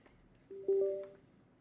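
A cat gives a single short meow, fairly faint and alone in a quiet room.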